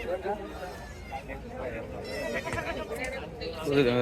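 Goats bleat repeatedly at close range at a goat market, wavering cries of dairy goats rising over someone talking.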